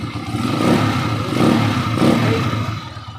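A Honda TMX155 motorcycle engine with a wobbling crankshaft runs noisily up close, a steady rough, clattering drone that swells slightly in a few surges.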